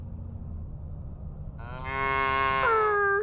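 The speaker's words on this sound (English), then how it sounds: "There's a bunch of cows on the field." Cattle mooing in the video game Little Misfortune, one long drawn-out low moo that rises in the second half of the moment over a quiet rumbling background, loud and close, with no talking.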